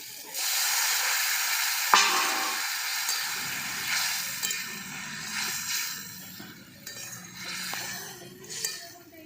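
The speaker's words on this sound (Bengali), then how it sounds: "দেখুন ঝোলটা খুব ভালোভাবে ফুটে গেছে" Fish curry simmering in a pan on a home stove, giving a steady, fairly loud bubbling hiss and sizzle throughout, with a sharp clink of a utensil against the pan near the start and a few fainter clinks later.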